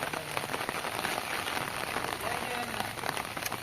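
Heavy rain pours down in a village, a dense, continuous hiss of drops drumming on surfaces, loud and unbroken throughout.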